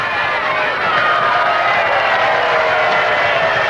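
A large, steady crowd roars and cheers at a rugby league match between Manly-Warringah and Western Suburbs at Brookvale, a loud, dense wash of voices that holds evenly throughout.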